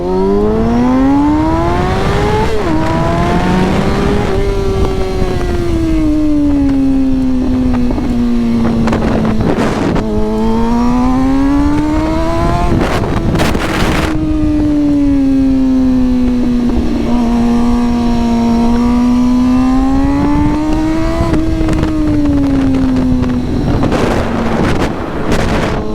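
Motorcycle fitted with a new aftermarket exhaust accelerating hard through repeated pulls, engine pitch climbing and dropping between gear shifts, loud and close with wind buffeting the microphone; no talking.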